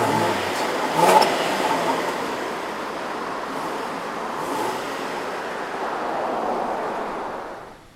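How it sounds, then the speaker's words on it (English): A 2016 Range Rover with a 510-horsepower 5.0-liter supercharged V8 idles in a steady, broad engine rumble, swelling briefly near the start and then holding even before fading at the end. No one speaks. "But let's hear the engine here for a moment."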